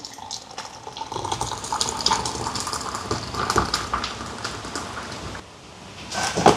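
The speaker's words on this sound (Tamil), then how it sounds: "இதில் உப்பு போட்டிருக்கிறேன் அதோட சேர்த்து ஊற்றுறேன்" Boiled salted water poured into flour for making puttu dough, a steady splashing stream that fills most of the clip before stopping, close and fairly loud.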